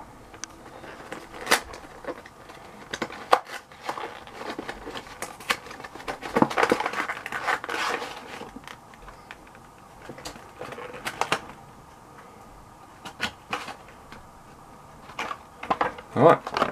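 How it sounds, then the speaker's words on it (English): Crinkly plastic wrappers of Magic: The Gathering Kaladesh booster packs and a deck box being torn and handled, giving irregular bursts of close rustling and crackling with short quiet gaps between. "sorry for all the rustling."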